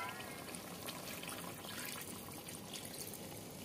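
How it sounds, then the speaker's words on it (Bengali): Water from rinsing a bowl pours into a pan of mustard hilsa curry, a soft continuous splashing and trickling that stays faint and even throughout. "এবার আমি জল অ্যাড করব। এই যে বাটি ধোয়া জল।"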